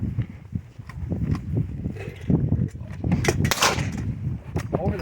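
A single shot from an 1873 Winchester rifle cracks out past the midpoint, loud and sharp amid scattered outdoor thumps and shuffling noise.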